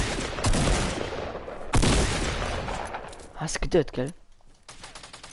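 Gunfire in Fortnite cracks out in sharp broadband bursts and volleys, loud and close, with gaps between salvos and a German-speaking player talking over the shots.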